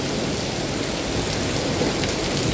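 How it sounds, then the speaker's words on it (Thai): Heavy rain pours down steadily in a dense, unbroken roar, close and loud, with no voices over it, during a downpour at a shop selling rice. "ฝนกระตกคักตกแน่"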